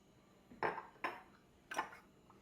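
Whisk scraping and clinking against a pan as salsa verde and paprika are whisked into a thickened sauce for white chicken enchiladas, three short bright strokes close by with quiet gaps between.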